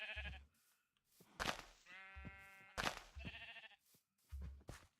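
A brown sheep bleats in the Minecraft video game, several short nasal baas in an uneven sequence, near and clear, with one longer quavering bleat in the middle.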